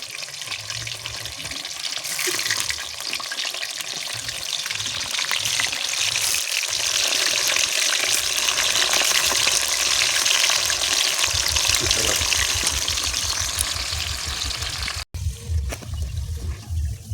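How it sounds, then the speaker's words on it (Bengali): Round potato slices frying in mustard oil, a loud continuous sizzle close up that holds steady throughout, with stirring movements and a brief clatter near the end. "চাকা চাকা আলু ভাজা।"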